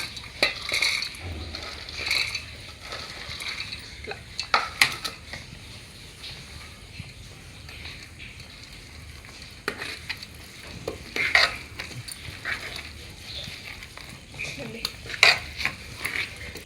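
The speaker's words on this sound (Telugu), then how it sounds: "ఈ పాకంలో ఇప్పుడు తీసుకుంటున్నా నేను బూందీ అంతా వేసేస్తున్నా" Boondi stirred into thick sugar syrup in a pan, with intermittent close clinks and scrapes of a spoon against metal over a quiet background, a light sizzle underneath.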